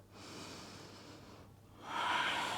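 A yoga instructor breathes slowly and audibly through the nose, a long soft inhale and then a stronger, louder exhale, close and with no words.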